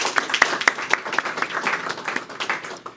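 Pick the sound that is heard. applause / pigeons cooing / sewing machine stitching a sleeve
applause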